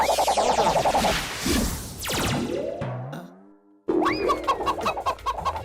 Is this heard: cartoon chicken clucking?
yes